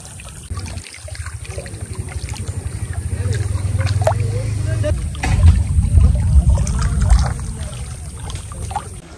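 A hand dips into river water at the bank at ebb tide, with soft trickling and splashing close by, set over a low steady rumble and faint background sounds.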